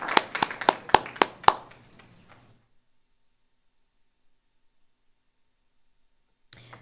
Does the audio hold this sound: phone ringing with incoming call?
no